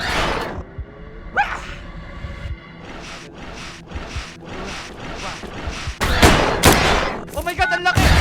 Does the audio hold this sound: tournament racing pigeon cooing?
no